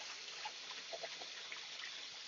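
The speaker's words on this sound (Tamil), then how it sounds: "வெஞ்சுரி வால்வு ஓப்பன் பண்றேன். தண்ணி வெளியில வருது." Water flows out through an opened venturi valve on a drip irrigation fertilizer injection setup, a soft, steady trickling and gushing that stays quiet and continuous throughout.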